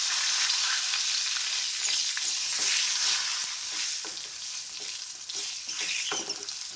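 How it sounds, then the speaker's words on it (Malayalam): Tomatoes frying in coconut oil in a pan, a steady bright crackling sizzle with soft scraping stirs scattered through, close and continuous with no voices. "തക്കാളിൻ്റെ മേലത്തെ തൊലിയുടെ ഒക്കെ കളർ മാറുന്നവരെന്നത് എണ്ണയിലിട്ടൊന്ന് മൂപ്പിച്ചെടുക്കാം."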